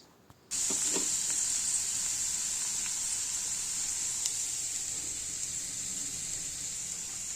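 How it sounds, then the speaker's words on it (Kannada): Carrots, beans, tindora, onion, coconut and dill leaves frying in a pan hiss with a steady sizzle that starts abruptly after a brief quiet moment and holds evenly, no talking. "ಇವಾಗ ಯಥೇಚ್ಛವಾಗಿ ತರಕಾರಿಗಳನ್ನ ಹಾಕಿದ್ದೀನಿ ಕ್ಯಾರೆಟ್ ಬೀನ್ಸ್ ತೊಗರಿಕಾಯಿ ಈರುಳ್ಳಿ ತೆಂಗಿನಕಾಯಿ ಸಬ್ಸಿಗೆ ಸೊಪ್ಪು ಎಲ್ಲ ಹಾಕ್ಬಿಟ್ಟು ಚೆನ್ನಾಗಿ ಫ್ರೈ ಮಾಡಿದ್ದಾಯಿತು"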